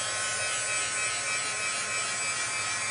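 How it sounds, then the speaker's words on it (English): A heat gun blows over vellum for heat embossing with a continuous, even whirring hiss that holds steady and close throughout, with no voices. "So I'm going to heat it, my heat gun first,"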